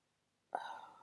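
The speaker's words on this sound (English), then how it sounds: "Excuse me, I'm burping." A single short, quiet burp erupts from near silence, a brief throaty gulp close to the mic with no talk around it.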